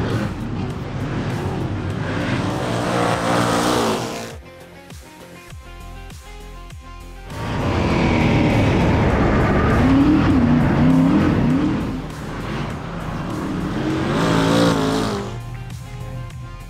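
Super saloon race cars roar around a dirt track in a heat, engines loud and sustained with rising and falling revs as cars pass close, a brief dip in the middle before the pack thunders by again.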